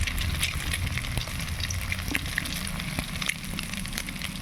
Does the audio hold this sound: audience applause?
no